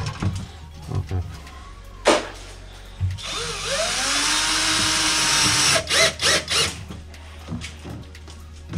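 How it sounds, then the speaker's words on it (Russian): A power screwdriver drives a self-tapping screw to fix a thermostat onto an outdoor evaporator, giving a loud sustained whir of a few seconds with rising motor tones and short clicks around it. "Сейчас, значит, я еще его закреплю на один саморез вот здесь, вот в этом месте."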